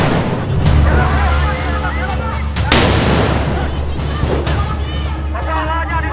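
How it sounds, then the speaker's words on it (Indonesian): Gunfire and blasts ring out at a training ground for Indonesian maritime guard recruits: a few sharp, loud reports spaced several seconds apart over steady low rumble, with voices talking underneath. "suara tembakan."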